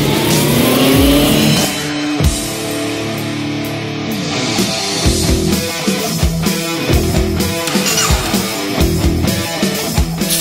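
A Honda CB650F motorcycle engine revs loudly and steadily, its roar blended with a driving music track throughout.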